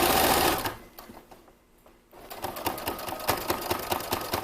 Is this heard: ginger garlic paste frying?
no